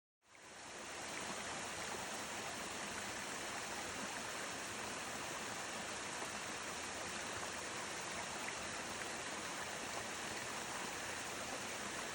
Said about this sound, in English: There's a cool little waterfall.